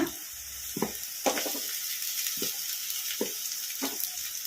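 Onions and cabbage frying in oil for egg fried rice, a low sizzle beneath a series of distinct spatula scrapes and knocks against the pan at irregular intervals, nearby and fairly clear.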